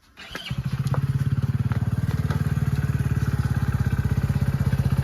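A motorcycle engine catches and settles into a steady, loud, close thumping idle with an even rapid pulse, after a short startup burst, with no talk over it.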